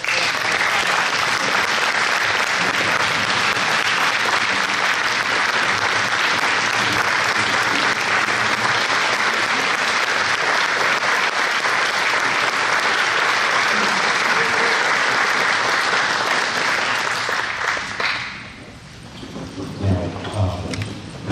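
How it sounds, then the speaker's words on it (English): An audience at a panel event gives sustained loud applause for about eighteen seconds, a dense steady roar of clapping that fades quickly, followed by faint low murmurs. "Let's give them a hand."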